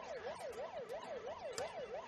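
A faint, rapid wailing air raid siren in a Tetris video game rises and falls in a quick repeating cycle, with scattered clicks and thumps underneath.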